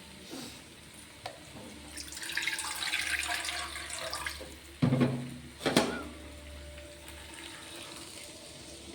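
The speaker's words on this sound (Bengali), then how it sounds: "এবার আমি জল দেবো আস্তে আস্তে।" Water is slowly poured into sizzling fried masala for a potato curry, a soft splashing trickle with a sharp sizzle and clatter midway, then a quiet simmer.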